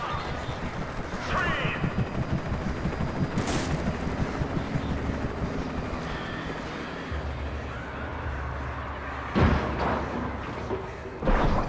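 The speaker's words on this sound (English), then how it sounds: "Why are you shooting?" Gunfire in the video game Alan Wake, a few dull bangs and bursts buried in dense rumbling ambience, with a character shouting a command in the middle.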